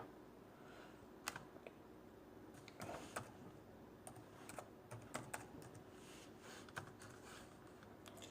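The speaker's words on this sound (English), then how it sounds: "I'll just type it in right now" A computer keyboard is typed on in scattered light clicks and short bursts, soft and close over a faint steady room hum.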